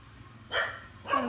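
A pet dog in a village home gives two short barks a fraction of a second apart, fairly close and clear, with no talk.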